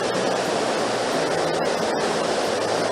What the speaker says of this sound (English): we've got the sheer force of the water coming over